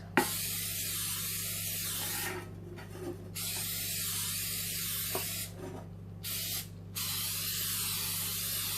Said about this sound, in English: I'm using the Easy Bake Spray.